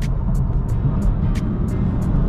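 A 510bhp BMW M3 driving at night, its engine a steady low rumble heard from inside the cabin, continuous and fairly loud with faint rhythmic ticks over the top.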